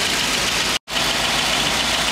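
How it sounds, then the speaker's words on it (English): A 1959 Cadillac Series 63 Coupe DeVille V8 idles quietly and steadily close by, a smooth continuous engine hum broken only by a brief dropout partway through. "You can hear it running. It actually runs pretty quiet."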